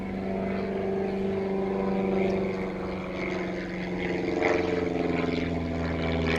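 A propeller airplane passes overhead above an outdoor beehive, a steady droning engine hum with a low harmonic rumble that holds throughout and swells slightly toward the end.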